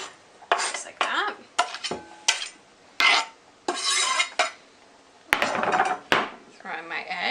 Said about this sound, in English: I'm just going to scrape in the onion, just like that.